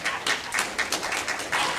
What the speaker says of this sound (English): I'm glad somebody's clapping